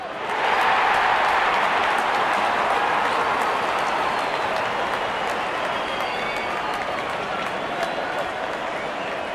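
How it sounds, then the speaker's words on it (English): A cricket crowd at an India versus Netherlands T20 World Cup match cheers and applauds as the openers come out. A continuous, loud roar of clapping and crowd noise holds steady throughout. "and the crowd cheering in joy"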